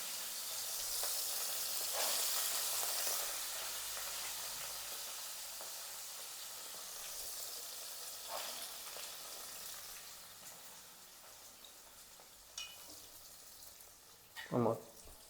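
A lightly scorched tempering crackles in a pan, a faint steady hiss with scattered small pops and a couple of louder clacks near the end, quiet and slightly distant.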